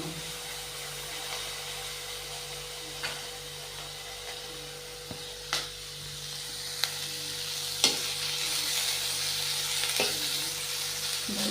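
Sliced onions fry in a pan for ridge gourd curry, a steady low sizzle running throughout with a few sharp clicks and pops from stirring.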